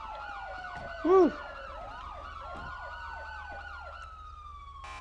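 Wailing police sirens from GTA 5 (LSPDFR/FiveM patrol mod) sweep up and down continuously under a low vehicle rumble, with a brief shout partway through.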